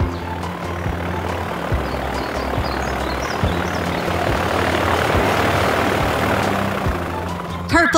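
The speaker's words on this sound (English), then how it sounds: "The red plane is taxiing away from the runway." A cartoon red plane taxis away from a runway, its propeller engine droning steadily and loudly throughout, with faint voice-like tones underneath and a brief clatter at the end.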